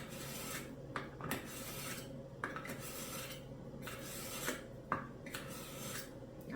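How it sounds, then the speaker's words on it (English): A paring knife being sharpened, its blade rasping in steady repeated strokes with a few sharper scrapes, close by and moderately quiet, with no talking. "And I will also sharpen my paring knife as well."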